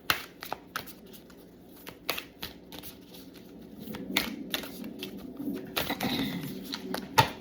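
Oracle cards are shuffled by hand in a series of brief riffling bursts and soft taps, with quieter shuffling handling in between and no talking.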